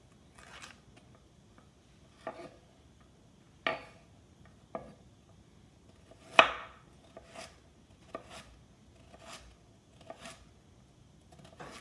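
A knife chops through carrots on a cutting board in a run of sharp, irregular thwacks, with one louder strike partway through and no one talking.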